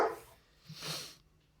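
A dog barks briefly at a distance, a couple of soft, muffled yaps fading out within about a second.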